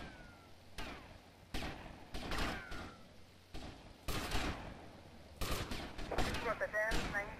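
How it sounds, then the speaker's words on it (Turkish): Gunfire in the video game GTA Vice City comes in repeated bursts of sharp shots and short volleys at an uneven pace, with voices speaking between the bursts. "Sıkıyorlar hala."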